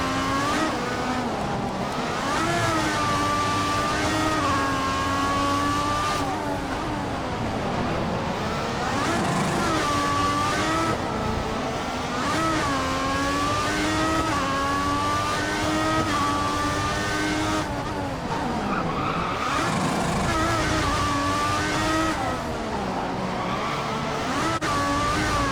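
F1 race cars in the F1 2014 video game at the Russian Grand Prix, engine tones rising and falling as the car shifts through gears, loud and continuous for the full lap stretch, with no talking.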